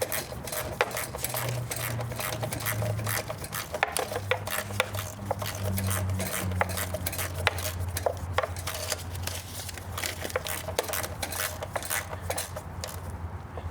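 Small hand ratchet turning a bolt on the engine of a John Deere X350 riding mower, a long run of quick, light metallic clicks with faint clinks throughout.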